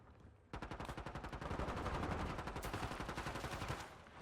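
Automatic gunfire in Warzone: a loud, rapid string of regularly spaced shots that starts abruptly and keeps a steady rattling rhythm for several seconds, with no voices.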